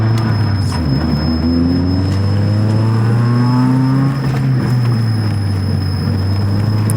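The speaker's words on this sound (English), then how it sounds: "we have a kind of a grinding noise" Continuous low grinding and droning from a Toyota Celica ZZT231 with worn brakes while driving, a steady loud rumble with shifting tonal whine and faint squeal running throughout, no voices.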